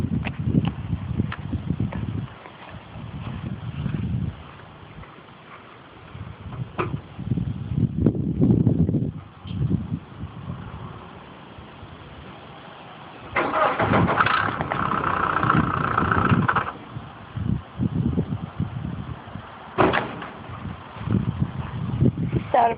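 A Nissan engine idling and revving through a custom exhaust stack, with an uneven low rumbling idle broken by a couple of louder, rougher surges and quieter gaps, heard up close.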